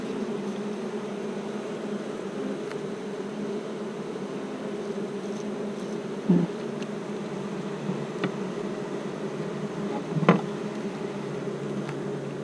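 Constant low hum of many honeybees buzzing close by around an open long hive, with occasional louder individual bees flying past the microphone.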